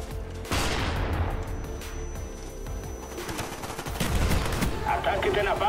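Gunfire in Call of Duty Black Ops from a G11 rifle, a dense run of shots filling the clip with a louder burst near the end, under game ambience.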